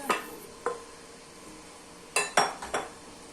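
Leftover minced keema is scooped into a cooking pot with a handful of sharp metallic clinks and scrapes of a spoon against the pot, close and otherwise quiet.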